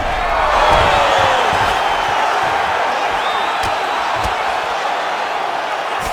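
A simulated arena crowd in EA Sports UFC 5 roars steadily during a fight, loud sustained cheering with a few sharp thuds and whoops in the mix.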